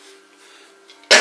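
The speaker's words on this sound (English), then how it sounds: "sorry about the cough." A single sharp cough bursts out at the very end after near silence, close and loud.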